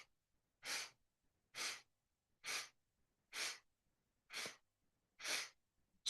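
Six even, breathy nasal inhalations drawn through the right nostril during a paced yoga breathing exercise, each about half a second long and separated by quiet pauses, close and soft.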